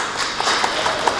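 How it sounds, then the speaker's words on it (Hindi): A brief burst of steady audience clapping at an interview-style talk session, a dense patter of hands lasting about a second with a few sharper claps standing out. "इस बात पे तालियां बनती हैं।"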